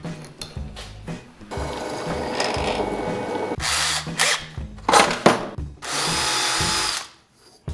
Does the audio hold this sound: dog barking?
no